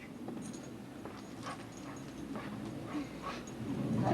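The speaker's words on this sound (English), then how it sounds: "I hope you can see our wonderful little puppy." A year-old puppy whimpers and yips in a few soft, high whines over steady low background noise, nearby and fairly quiet.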